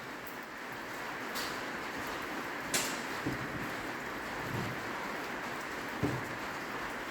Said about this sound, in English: I do apologise for the rain noise.